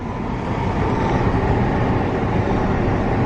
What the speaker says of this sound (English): Look at that, another train.